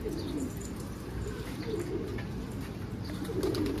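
Pigeons in a large loft coo continuously, a dense layer of overlapping low throaty calls from many birds nearby, steady with no talk.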